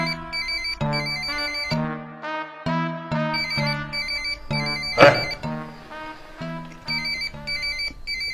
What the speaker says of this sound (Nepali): फोन आइरहेको छ उठाउनु न